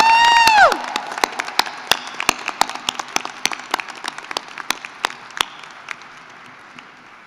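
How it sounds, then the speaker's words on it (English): Doctoral graduates at a hooding and graduation ceremony offer their faculty a round of applause. After a short tonal sweep, scattered individual claps thin out and fade over several seconds. "I would like to ask all of our students, as you are able, to stand and offer our faculty a round of applause."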